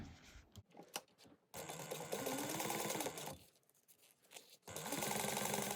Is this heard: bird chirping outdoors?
no